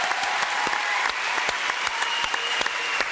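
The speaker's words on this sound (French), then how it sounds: "Applaudissements pour Pierre Belmar." A French television studio audience applauds, a dense, even wash of clapping that holds steady for a few seconds with no talk over it.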